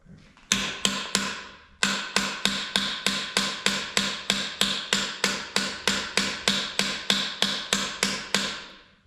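A hammer strikes steadily in a garage while a 428 engine is pulled from a 1969 Pontiac Bonneville Safari Wagon: about twenty sharp, loud metallic raps in an even rhythm, with a short pause near the start.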